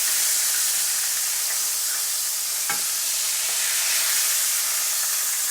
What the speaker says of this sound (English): We can just drain it out right now